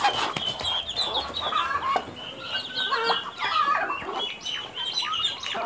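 Muscovy ducks and ducklings gathering at water to bathe, giving continuous close clucking and peeping calls over a busy yard.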